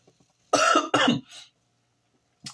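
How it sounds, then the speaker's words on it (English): Two harsh, loud coughs in quick succession close to the listener, followed by a softer breathy sound and quiet, then a brief noise at the end. "I've been coughing every single day"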